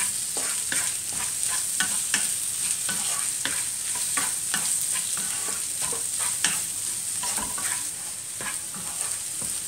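Onions sautéing in a pan for a roasted-coconut egg curry give a steady, loud sizzle, broken by frequent sharp clicks and scrapes of stirring throughout, with no voices.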